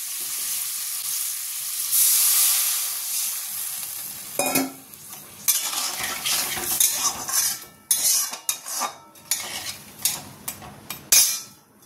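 Water poured into a pan of spiced curry for malai curry sets off a loud hissing sizzle, followed by repeated scraping and clattering strokes of a spoon stirring against the metal pan.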